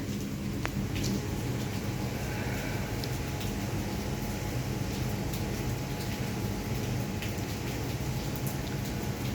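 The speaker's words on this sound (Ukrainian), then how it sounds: "А дощ розходився не на шутку. Такий помірний, хороший дощик." Moderate, steady rain falls throughout, a constant dense hiss with low rumble and occasional sharper drips, even in level and uninterrupted.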